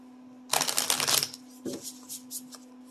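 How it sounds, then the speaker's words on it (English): Tarot cards shuffled by hand during a singles love reading, a dense papery riffle for about a second, then a few softer, separate card flutters, close and clear over a steady low hum. "let's go ahead and let's shuffle"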